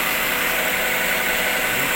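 Car engine idling after a general overhaul, a steady close mechanical hum with a slightly uneven, shaky quality throughout, with no voices.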